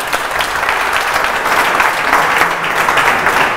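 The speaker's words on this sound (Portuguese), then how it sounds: "Vamos aplaudir rigoroso." Audience applause for the rapper Rigoroso at a rap battle show, a dense, steady clapping wash that holds at an even level from start to finish with no voices on top.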